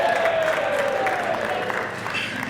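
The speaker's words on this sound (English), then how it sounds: "How about a round of applause for me," An outdoor crowd at Steamboat Springs Ski Resort claps and gives a few scattered cheers, moderately loud and fairly steady, with a voice briefly rising over the noise.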